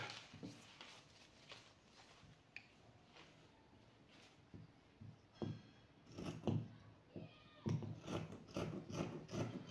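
Scissors cut the first fabric layer of a high-low baby dress skirt, giving quiet, irregular snips and rustles that grow denser and louder toward the end.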